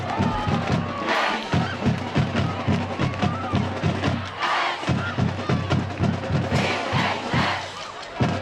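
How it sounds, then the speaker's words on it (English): A loud stadium crowd cheers and shouts at a high school varsity football game between American Fork and Bingham, with massed voices swelling in waves over a steady, rhythmic low pounding beat that keeps time throughout. "So you can hear the crowd, man."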